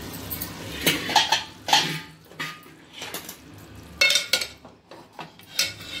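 Freshly cooked nalleru curry scooped from a pot into another vessel, with scattered metal clinks and scrapes of a spoon against the cookware, close and fairly quiet, in irregular bursts.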